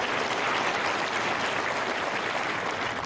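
Steady, dense applause from a sizable crowd at the 2016 Hobart International women's tennis final, outdoors on a sunny day, continuous and even throughout without a break.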